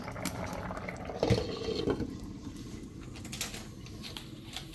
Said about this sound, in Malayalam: മീൻകറി ഇവിടെ ഇരുന്ന് തിളയ്ക്കുന്നു.